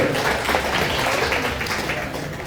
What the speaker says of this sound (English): give them a round of applause for coming out and joining us this year